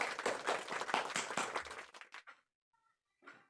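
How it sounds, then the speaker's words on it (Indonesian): Classmates in a classroom give dense, lively applause for a presenting group, which tapers off into a few scattered claps before a brief sound at the end. "Beri aplaus dong untuk kelompok 3"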